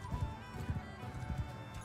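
Horse hooves galloping in the medieval battle game Mount & Blade II: Bannerlord, a fast rhythmic clip-clop of repeated beats at moderate distance, fairly quiet, with no talk.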